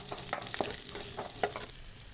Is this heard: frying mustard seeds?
yes